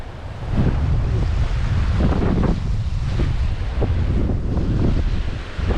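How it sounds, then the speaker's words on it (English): Wind gusting hard across an open boat under sail on Loch Ness, a deep freshwater loch, with steady buffeting roar and some water noise, loud and constant throughout with no talking. "The wind's blowing."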